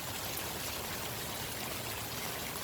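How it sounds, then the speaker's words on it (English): Floodwater on a flooded street pours steadily down toward a blocked drain, a constant, close rushing wash with no pauses and no talking. "The other blockage is all the water's coming down right here, but you can see it's trapped here."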